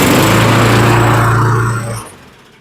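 Close and loud, a Poulan Pro lawn mower engine drones at a steady idle with a low hum, then cuts off and fades out near the end.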